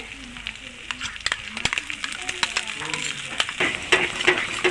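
Beaten curd spooned into spice masala sizzling in oil, a crackling frying hiss full of sharp pops and stirring clatters that builds in intensity, while a voice talks underneath.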